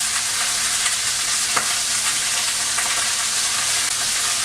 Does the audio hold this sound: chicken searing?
yes